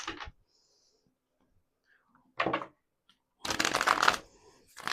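A deck of tarot cards shuffled in three separate bursts: a quick riffle, a short flutter, then a longer, louder run of papery snapping, with silence between.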